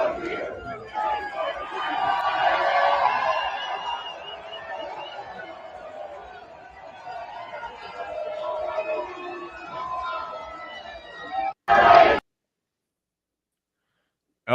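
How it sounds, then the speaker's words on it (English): A sports crowd at a Florida Panthers championship celebration chants in unison, a loud, sustained mass of voices lasting about eleven seconds before cutting off abruptly after a brief loud burst. "Stan Bennett, the crowd was chanting 8 more years."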